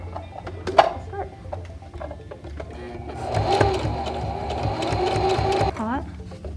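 A sewing machine stitching through several fabric layers of a face mask, a steady close mechanical whirr that starts after a few handling sounds and runs for several seconds, with a voice speaking near the start.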